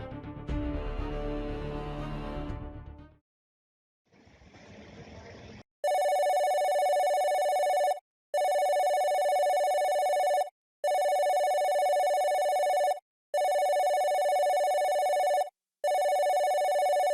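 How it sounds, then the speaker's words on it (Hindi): A brief muffled noise and a pause, then a telephone rings loudly and repeatedly, five evenly spaced electronic rings with short silences between them. "फोन आ रहा है आपका।"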